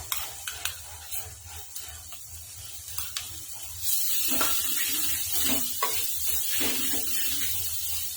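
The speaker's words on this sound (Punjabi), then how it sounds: "ਮਲਾਈ ਨੂੰ ਤੜਕੇ 'ਚ ਮਿਕਸ ਕਰਾਂਗੇ ਆਪਾਂ 1 ਮਿੰਟ ਬਣਾਵਾਂਗੇ" Cream being stirred into a fried onion tempering in a pan for dry paneer onion masala: light spoon scrapes and taps, then a louder, continuous sizzle with stirring clatter, no talking.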